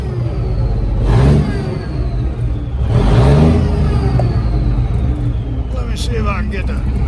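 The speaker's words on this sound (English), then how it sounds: "that's an old big cam 400 Cummins" An old Cummins Big Cam 400 diesel engine idles steadily just after starting, a continuous low rumble with voices talking over it throughout.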